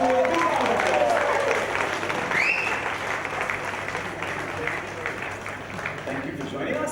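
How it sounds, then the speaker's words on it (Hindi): Audience applause greets a young actress at a launch event for a Hindi TV family drama, a steady wash of clapping with faint voices mixed in throughout. "इतनी छोटी क्यूट सी अवनी के लिए जोरदार"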